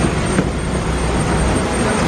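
Airplane engine during a passenger flight, a loud, steady broadband roar filling the cabin, with no clear speech over it.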